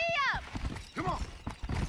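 Hooves clip-clop at a gallop under a horse's whinny in Red Dead Redemption, with a rider urging the horse on over the rhythmic hoofbeats.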